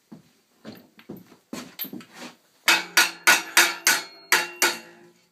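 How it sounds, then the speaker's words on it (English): A small hammer strikes scrap metal clamped at a corner to bend it, sharp ringing metallic blows, lighter taps first, then about eight loud, evenly spaced hits close by. "A little hammer."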